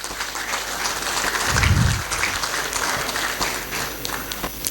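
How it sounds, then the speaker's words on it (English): An audience at a tax law lecture on constitutional courts applauds steadily, a dense wash of clapping from a medium-sized crowd indoors, with a brief low thump partway through and no speech over it. "Let us all give him a big round of applause"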